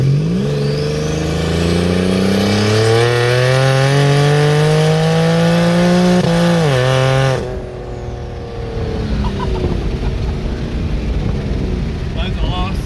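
A car fitted with an AMR turbo kit pulls away under hard acceleration, its engine climbing steadily in pitch for several seconds before a gear change, then fading into road rumble and wind.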